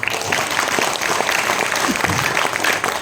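A crowd at a Hindi poetry recital breaks into loud, dense applause, a sustained close wash of clapping with faint voices mixed in.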